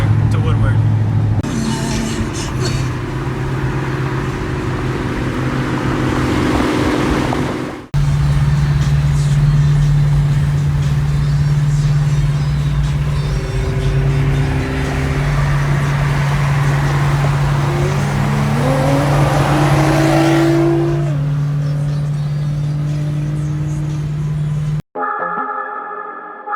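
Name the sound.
Procharged C6 Corvette and GTR with titanium exhaust driving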